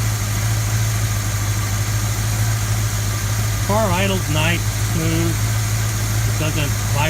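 A car engine idles smoothly at close range, a steady low hum with no knocking or shaking, while someone talks over it partway through.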